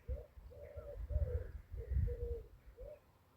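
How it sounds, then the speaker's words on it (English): Wood pigeons cooing in a garden, a series of soft, regular hooting calls at moderate distance over a low outdoor rumble. "Hear the wood pigeons?"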